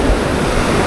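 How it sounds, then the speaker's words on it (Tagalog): Ocean waves on the rocky shore of Batanes make a loud, continuous roaring wash, mixed with wind buffeting the microphone, with no voices. "Yung mga dagat na nangangalit yung mga alon"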